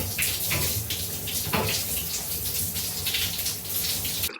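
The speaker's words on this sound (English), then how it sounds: "so I'm going to go have a cold shower." A cold shower runs steadily in a home, a continuous loud hiss of spraying water splashing below with no break and no talking.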